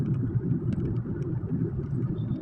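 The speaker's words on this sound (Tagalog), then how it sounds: "Naku, napaka-traffic dito." Heavy road traffic on a metro street at dawn, a dense low rumble of engines and passing vehicles, steady and close, with faint higher clinks and no voices.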